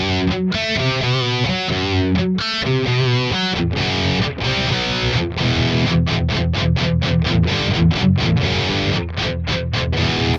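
Heavily distorted electric guitar through a Neural Amp Modeler with thrash-metal-style lead and rhythm tones plays chugging riffs and sustained chords, loud and dense, with short choppy stops and palm-muted rhythmic bursts.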